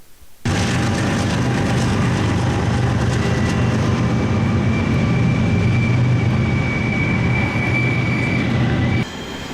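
Freight train rolling past with Ferromex locomotive 4674 trailing, a loud, steady rumble and clatter of wheels with faint metallic squeal, sustained close by for several seconds before cutting off.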